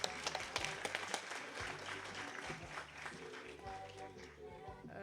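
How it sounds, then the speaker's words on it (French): Applause at an opening ceremony for graduates: fairly faint clapping from an audience, with a few distinct claps at first, blending with background music and murmured voices. "Un applaudissement, s'il vous plaît."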